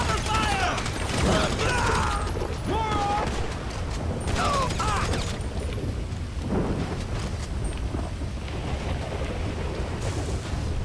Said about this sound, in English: Lay down cover fire.